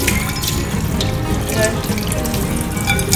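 Tap water pours steadily into a kitchen sink, rinsing greasy residue off a frying pan under a weak faucet stream, a loud continuous splashing rush.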